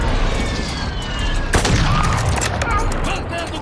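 Gunfire from Call of Duty Warzone 2.0 bursts in rapid volleys with a loud boom partway through, mixed with game effects and players talking throughout.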